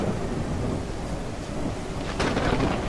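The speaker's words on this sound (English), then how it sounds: "So much rain." Steady heavy rain pours in a stormy Unreal Engine 5 open-world gladiator game, with a dull rumble of thunder swelling near the end.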